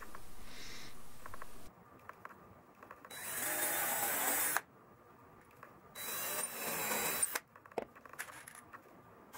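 Power drill boring screw holes through three layers of fiberglass cloth on a teak swim step for a center console boat, heard as two loud bursts of steady whirring of about a second and a half each, separated by quieter handling clicks.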